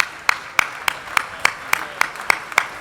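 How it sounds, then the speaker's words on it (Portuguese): Steady rhythmic clapping at an awards gala ceremony, about ten even, crisp claps in a regular beat over a quiet background with faint voices. "continuem os aplausos"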